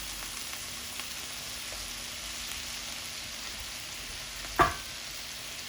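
Soy sauce and butter sizzle steadily in a shrimp and snap pea stir fry, a constant close hiss with one sharp utensil clink near the end.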